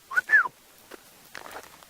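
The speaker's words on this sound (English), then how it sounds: "Now, you heard me whistle" A safari guide's short two-note whistle on a sunrise bush walk in Sabi Sand, South Africa, clear and close, followed by faint rustles and footsteps.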